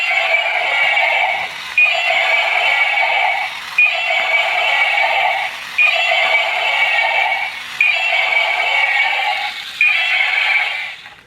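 Toy T-rex dinosaur roaring electronically, Godzilla-like, in five or six repeated loud screeching bursts of about two seconds each, close and alone with short gaps between.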